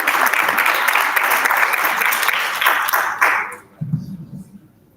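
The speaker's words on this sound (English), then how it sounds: "A round of applause again." An audience claps after a presentation at an adolescent health forum, steady dense applause filling the room for about three and a half seconds before tapering off, followed by a brief low voice.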